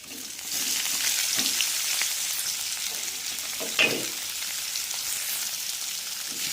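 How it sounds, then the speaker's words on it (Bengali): Onions frying in oil and stirred in a pan for a dhaba-style mutton curry, a loud, dense, continuous sizzle close up, with soft scraping strokes and one brief clink partway through. "আমি নাড়তে থাকবো পেঁয়াজটাকে যতক্ষণ না বাদামি কালার আছে ততক্ষণ আমি পেঁয়াজটাকে নাড়বো"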